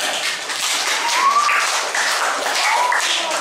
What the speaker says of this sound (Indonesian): Kasih tepuk tangan untuk Felita.